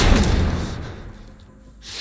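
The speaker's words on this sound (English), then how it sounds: "Barricade the doors." In The Last of Us Part 1, doors are barricaded and slammed shut. A heavy, close thud and boom opens the moment, then fades into a low rumble before a faint rise at the end.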